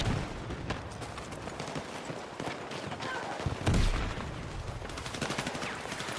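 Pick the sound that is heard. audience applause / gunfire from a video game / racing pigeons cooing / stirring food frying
gunfire from a video game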